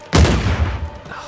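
A single rifle shot from Uncharted 4 fires loud and close, with a sharp crack that decays into a brief booming tail.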